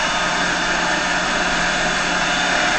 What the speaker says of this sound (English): We're going to knock the hairdryer off and we're going to allow this to cool.